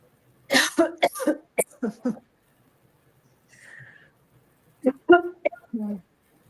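Several sharp coughs in quick bursts, close to the microphone, separated by a quiet pause with a faint throat sound.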